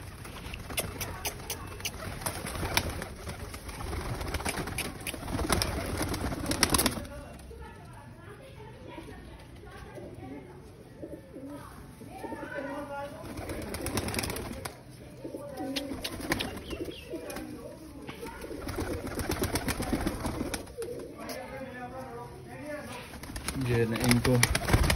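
Pigeons kept by a breeder coo and stir on an open rooftop under a blue sky, a steady low murmur of birds running throughout with some rustling, while someone talks over them.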